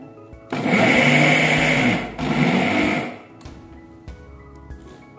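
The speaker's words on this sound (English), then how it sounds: "Now transfer the content into a mixer jar and give a quick run." A mixer grinder jar blending an oats puttu mixture runs in two loud, whirring bursts of about two seconds and one second, with a brief pause between them, then stops.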